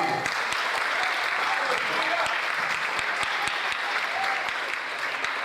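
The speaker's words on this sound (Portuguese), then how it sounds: "Aplauda o Senhor aí." A church congregation at a Sunday service applauding, a continuous dense wash of clapping from many hands, steady and even throughout, with a voice faintly audible beneath.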